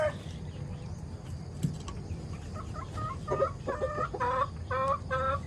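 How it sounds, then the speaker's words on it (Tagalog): Several laying Brahma hens cluck in quick repeated bursts nearby, growing busier toward the end. "Ito po yung mga inahin po. Nangingitlog na po yung mga yan."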